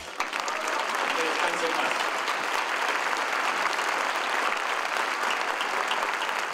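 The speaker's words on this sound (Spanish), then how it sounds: "el elenco brindó un minuto de aplausos a la memoria de Rogelio Guerra" Theatre audience and cast applaud at the end of the 100th performance of the play 'Las Arpías', a dense, even wall of clapping that holds steady throughout, moderately loud.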